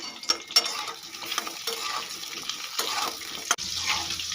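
Pointed gourds (potol) frying in oil over a medium gas flame, a steady close sizzle broken by sharp clicks and clatters of the pan and spoon.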